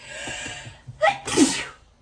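A single close, loud sneeze with a sharp inhale before it, otherwise quiet.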